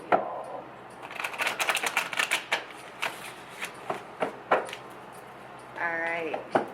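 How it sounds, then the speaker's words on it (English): A tarot deck is shuffled by hand in quick bursts of crisp, fluttering card clicks, with a brief voice near the end. "Let me get a shuffle, an actual shuffle"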